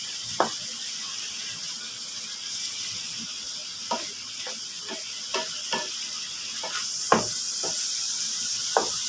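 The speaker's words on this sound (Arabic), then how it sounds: "نقلب بقى الطعامه دي مع بعض" Street-style liver frying in a pan and being stirred, with a constant sizzle broken by repeated sharp scrapes and clacks of the utensil against the pan, no voices.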